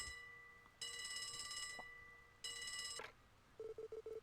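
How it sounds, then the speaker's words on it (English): A telephone rings in the video game Trails, two long electronic trills with a pause between them, followed by a short run of rapid beeps, fairly quiet. "The phone's ringing."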